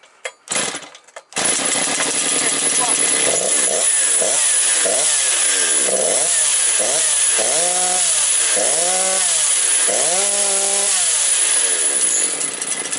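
A Motor Sich 475 engine cranks and starts, then runs loudly and roughly close by, its revs repeatedly surging and dropping in uneven bursts as the throttle is worked, with no talk over it.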